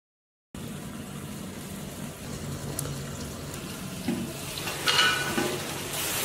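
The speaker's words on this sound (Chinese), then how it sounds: "盖上锅盖，把汤汁收干就好了" Sauce bubbling and reducing in a covered pot with chicken legs, star anise, cinnamon, Sichuan pepper and rock sugar, a soft steady simmering sizzle with a few clinks and louder bursts near the end.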